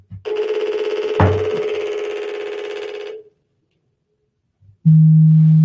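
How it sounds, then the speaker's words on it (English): A Microsoft Teams incoming call rings as a loud, steady electronic tone lasting about three seconds, then stops after a short pause before another tone begins. "So if Mitchell, for example, calls me on my number"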